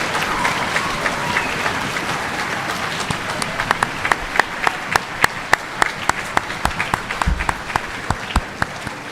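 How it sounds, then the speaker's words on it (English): Applause from a crowd at a middle school Veterans Day assembly, dense and loud, settling into sharp individual claps that ring out rhythmically toward the end. "I would like us to give a huge round of applause"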